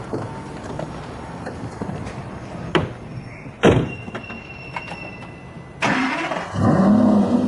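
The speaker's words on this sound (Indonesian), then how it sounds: "Masuk ke mobil." A car door thumps shut, followed by a couple of sharper knocks, and then the engine turns over and settles into a steady mid-pitched running hum near the end, with no talking.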